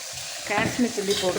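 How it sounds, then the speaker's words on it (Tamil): Tomato masala with Kashmiri chili powder sizzles and bubbles in hot oil in a pan, a steady close frying hiss with soft stirring scrapes throughout. "தக்காளியை ஊற்றிருக்கேன். நல்லா கொதித்து சுண்டி எண்ணெய் பிரிஞ்சு வரட்டும்."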